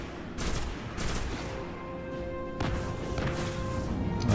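Enemy gunfire in the shooter game Destiny: several sharp bursts of rapid shots ring out in clusters against a low game backdrop, fairly loud and with no talking.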